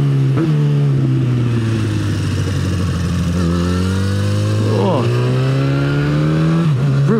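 Motorcycle engine revving hard under heavy throttle while riding, loud and close, pitch climbing and dropping through gear changes with a rough, uneven surge.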